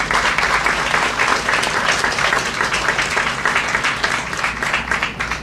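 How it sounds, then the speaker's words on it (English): A roomful of people claps steadily at a community gathering in Suitland, Maryland, with dense, sustained applause that stays loud throughout and tapers slightly at the end. "Can we give him a round of applause, please?"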